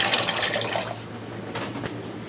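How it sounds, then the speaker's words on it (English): Water poured into a pot holding ham and gravy for Pennsylvania Dutch ham pot pie: a loud, close splashing rush that eases off, with a brief second splash near the end. "Now we add the water,"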